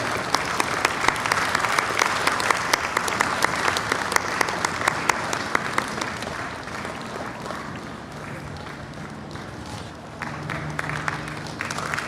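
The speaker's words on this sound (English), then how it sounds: "Let's give a big round of applause to Miss Maureen Evans, who is felicitated by Gurudev" Sustained audience applause for Miss Maureen Evans, honoured on stage at a large outdoor cultural festival, a dense wash of clapping from a big crowd that holds steady for about twelve seconds, thinning slightly near the end with some faint background tones.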